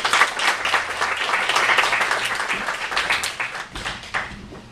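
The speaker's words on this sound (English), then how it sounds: "so let's give her a round of applause." Audience applause at an evening marketing and media branding talk, a dense wash of many hands clapping steadily for the full few seconds, loud at first and tapering slightly toward the end.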